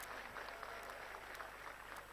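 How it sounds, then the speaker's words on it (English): Faint, distant applause rises from the audience at an international engineering conference hall welcoming a speaker, a thin steady patter under a constant room hum, with no voices over it. "I think you should welcome him with a good round of applause"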